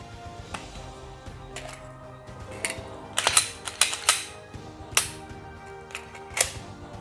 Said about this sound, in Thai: เคลียร์กระสุนให้เพื่อนๆดูก่อนนะฮะ